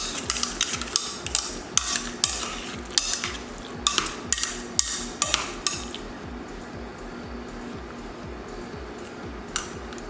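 A spoon stirs and mixes parmesan mashed potatoes in a pot, making a quick run of close metallic scrapes and taps that thins out into a steady soft hiss.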